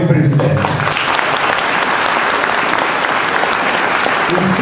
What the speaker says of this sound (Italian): con un bel applauso il presidente.